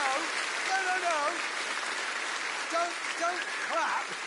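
Dense, steady clapping like a crowd applauding in a video game, The Grand Tour Game, with a voice speaking over it in short phrases.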